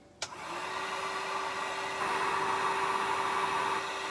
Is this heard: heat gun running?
yes